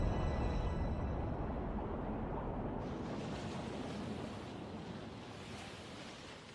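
Ocean waves in a Naruto Shippuden anime scene, an ocean conjured in the middle of a desert, give a soft, continuous rushing wash that fades slightly toward the end and sounds fairly distant.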